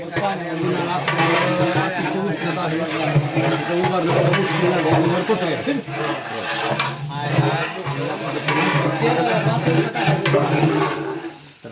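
Roasted onions frying in about two kilos of oil in a large pot for a village festival mutton feast cooked for 300 people, a loud, steady sizzle with stirring and background chatter.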